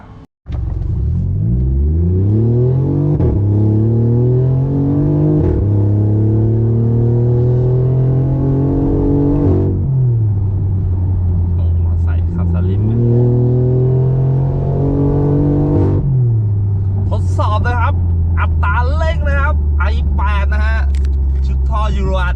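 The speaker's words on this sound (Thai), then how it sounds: "เสียงท่อโหดแบบนี้ ให้มันเป็นซูเปอร์คาร์ยิ่งขึ้นเนี่ย" A BMW i8 with a stage-two ECU tune and a Euro Arts valved exhaust revs loudly through repeated rising and falling engine sweeps, ending in sharp crackles and pops, with someone talking over it.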